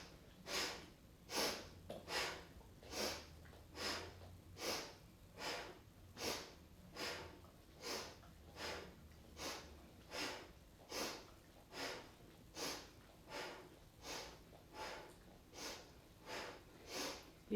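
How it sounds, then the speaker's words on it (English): Rhythmic sniffing breaths through the nose during seated yoga twists, about twenty quick, soft sniffs in a steady pulse, close and fairly quiet. No one speaks. "we're going to do a sniffing breath again, but just through the nose"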